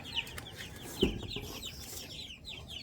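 Hens clucking in short, chattering bursts, with a louder squawk partway through and a busy, close farmyard background.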